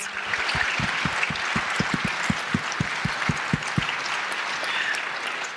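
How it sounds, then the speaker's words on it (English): An audience at a community foundation panel event gives a round of applause for the panelists: a dense, even wash of clapping with a few sharper individual claps near the microphone, steady for several seconds, fairly soft overall. "Let's give our panel a big round of applause."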